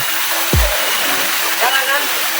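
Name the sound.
Curug Ciangin waterfall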